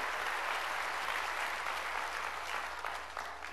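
A church congregation applauds to glorify God: dense, sustained crowd clapping that fills the space evenly and tapers slightly toward the end, with no voices over it.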